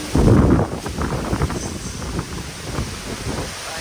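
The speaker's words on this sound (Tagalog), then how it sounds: "The wind so strong. And it's still rain and windy." Strong typhoon wind during Typhoon Sinlaku in Chuuk roars and buffets the microphone in loud gusts, heaviest at the start. It settles into a rough, rushing din with rain blended in.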